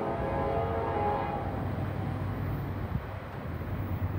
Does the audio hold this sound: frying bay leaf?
no